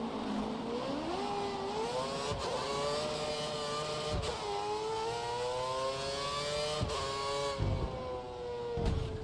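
Formula 1 car engine in F1 2013 on a driver test, a loud close whine rising and falling through gear shifts as the car accelerates and brakes, with no talk.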